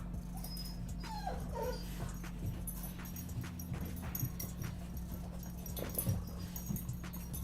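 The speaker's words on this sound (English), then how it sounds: "That's my puppy." A puppy named Izzy whimpering, soft high whines and small yips over a steady low electrical hum indoors, with faint shuffling movement.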